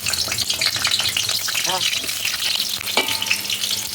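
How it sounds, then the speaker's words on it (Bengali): Potatoes sizzle and crackle as they fry in hot oil, with a stirring clink partway through and a brief scrape near the end. "ঢাকা দিয়ে আলুগুলো ভেজে নেব।"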